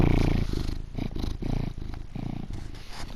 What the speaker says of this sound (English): Want to hear my cat purring?